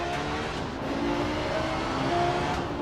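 An Audi Quattro rally car roars through a special stage in Germany in the video game Dirt Rally, its engine a steady, loud drone with gear changes and no voices over it.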